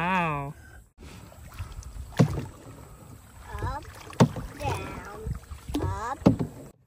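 Canoe paddle strokes on a reservoir, a few soft splashing pulls spaced out under children and adults chatting nearby, with light wind noise.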